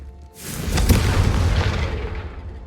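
A Confringo spell in Hogwarts Legacy hits a training dummy and explodes, one loud close boom that rises abruptly and rumbles on with a long, steady roar.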